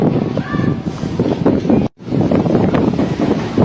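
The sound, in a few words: strong wind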